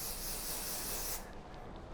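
Makeup fixer spray misted onto a face for South Indian bridal makeup, a close, bright continuous hiss lasting about a second before cutting off abruptly, with no talking.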